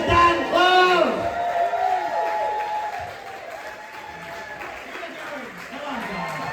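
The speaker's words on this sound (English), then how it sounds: "Please, stop clapping, stop cheering." An audience at a stand-up comedy night claps and cheers loudly, then the applause tapers into crowd murmur while someone speaks over it.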